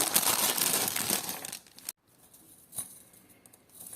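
A plastic packet holding vintage jewellery crinkles and rustles up close for a couple of seconds as it is opened, then goes quiet apart from a few small handling sounds.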